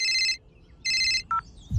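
A phone rings twice in an electronic ringtone pattern, loud and close, with a short electronic blip after the second ring and a low thump at the end.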